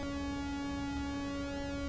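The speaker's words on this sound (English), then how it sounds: "So that's a pulse wave" A steady synthesizer pulse wave with pulse-width modulation holds a single pitch with bright, buzzy overtones, sustained and even throughout, with no voices.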